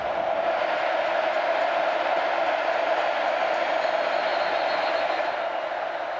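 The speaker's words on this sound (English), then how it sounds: "This crowd getting loud, a 3rd and goal, trying to hold BG to 3." Football stadium crowd at Texas A&M against Bowling Green building into a steady, loud roar on third and goal, a continuous wash of cheering without distinct speech.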